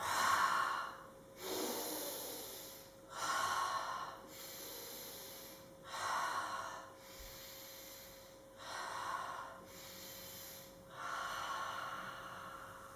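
Preschool children breathing out together in a guided breathing exercise, a series of about six soft, breathy exhales repeating at a steady rhythm, close and fairly quiet.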